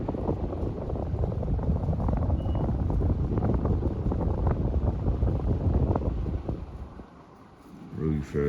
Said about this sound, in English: really fast fan, 15-degree blade pitch